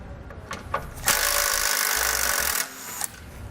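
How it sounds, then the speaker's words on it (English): A power tool with a 10mm socket whirs loudly in one sustained burst, removing base plate bolts on a 2018 Jeep, preceded and followed by softer clicks and rattles of metal tools nearby. "we're going to take a 10mm socket and we're going to go all along the front here"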